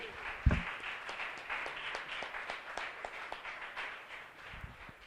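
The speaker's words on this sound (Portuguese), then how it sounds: "Então aplaude a Deus comigo mais uma vez." A church congregation claps in praise during a Portuguese-language worship service, a steady spread of hand claps filling the room at moderate volume, with a few louder thumps.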